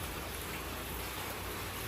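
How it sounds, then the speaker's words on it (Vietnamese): Rain falls steadily at a bamboo lodge near Nam Cat Tien national forest in Vietnam, a dense, even hiss of drops on surfaces with no breaks and no voices. "Mong trời mau hết mưa đi để có thể đi qua bên rừng quốc gia"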